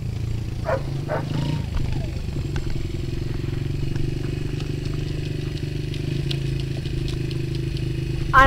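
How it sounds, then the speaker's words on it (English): A custom-made Honda dirt bike, about three years old, idles with a steady low engine rumble that runs throughout, close by and fairly loud, with faint clatter and a brief rise near the end. "this is my custom-made Honda dirt bike"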